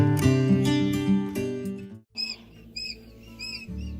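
Quail chicks in a brooder give high, thin chirps in short bursts, fairly close, following a stretch of louder mixed background noise that drops away briefly before the peeping comes through.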